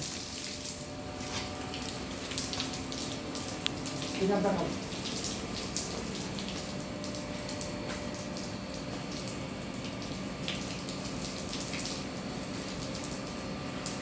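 Water sprays steadily from an irrigation system onto many garden plants, a continuous hiss of flowing water held at an even level throughout, with a brief tonal sweep partway through.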